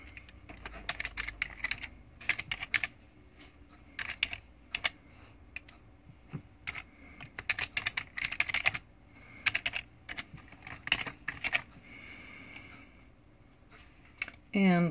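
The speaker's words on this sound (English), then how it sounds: "I'm going to type in my password and my email address" Rapid bursts of keystrokes on a computer keyboard as a password and email address are entered, close and crisp, with irregular pauses between runs of typing and no talk over it.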